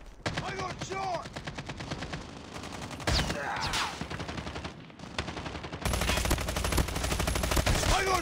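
Rapid automatic gunfire in a Call of Duty Mobile team deathmatch, dense volleys of shots and bullet impacts landing around the player, loud and nearly continuous over game noise.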